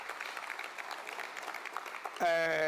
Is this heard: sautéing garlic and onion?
no